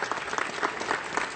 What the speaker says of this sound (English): Give a round of applause for Kate Levin